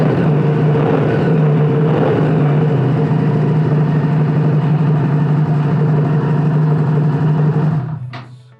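A modified Kawasaki ZX-10R's exhaust gives a deep, steady burble at idle with a low rumbling drone for several seconds, then cuts off abruptly near the end.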